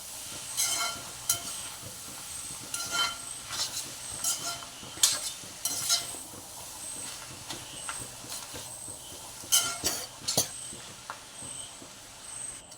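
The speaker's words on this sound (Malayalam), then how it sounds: "ഇനി ഇത് ഫ്രൈ ചെയ്യുന്നതാണ് പരിപാടി." Vegetables fry in a pan while being stirred: a quiet, soft hiss runs underneath, broken by scattered clicks and scrapes from the utensil, and no voices are heard.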